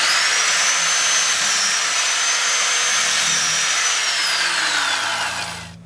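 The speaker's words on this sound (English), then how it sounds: "take your drill and with consistent speed and pressure," A power drill bores holes into a ski for mounting Bishop 2.0 telemark bindings, running at a steady, loud, continuous whine for about six seconds before winding down, with no talk.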